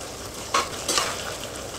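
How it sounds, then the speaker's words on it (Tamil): Broad bean thokku is stirred with peanut powder in a hot pan over a faint, steady sizzle, with two brief scrapes of a spoon against the pan. "வேர்க்கடலை பொடி போட்டு ஒரு நிமிஷம் நல்லா குக் பண்ணால் போதும்"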